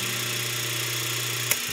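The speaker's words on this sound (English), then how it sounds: "That's how the repulsion induction motor works." An old Delta repulsion induction electric motor runs with a steady, even hum and constant mechanical whir, fairly close, broken once near the end by a brief sharp click.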